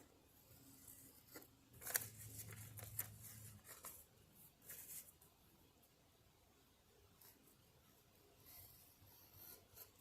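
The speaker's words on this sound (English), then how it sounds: "Let's cut that down a touch." Scissors snip and rub through paper close up, cutting a musket cartridge blank, a few quiet crisp cuts and rustles spread over the stretch at low volume.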